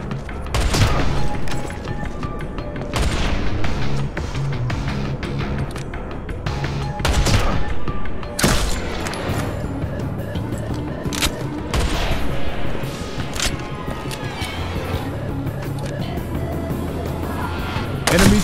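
Sniper rifle shots and booming explosions ring out in the Modern Combat 3 game, a series of loud sharp cracks at irregular intervals over a constant rumbling battle din.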